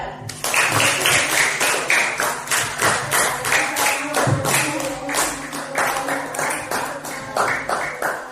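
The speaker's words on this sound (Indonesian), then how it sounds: "Tepuk tangan untuk kelompok 2." A classroom of students applauds a presenting group with sustained, dense clapping that carries steadily at fairly loud volume for several seconds, with little talk.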